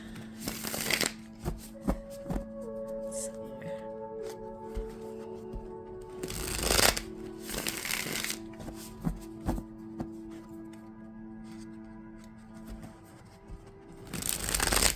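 Close, soft riffling and slapping of tarot cards being shuffled repeatedly, with crisp flutters and occasional louder bursts and no talking.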